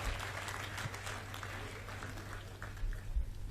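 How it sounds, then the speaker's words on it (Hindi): An audience claps at a Dussehra Maidan event in Indore: an even, fairly quiet spread of applause with no voice over it, sitting on a steady low hum. "एक बार ताली बजा दीजिएगा"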